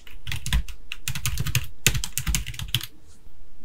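Rapid bursts of keystrokes clatter on a computer keyboard as text is typed, close and crisp, with short pauses between runs of typing and no voices.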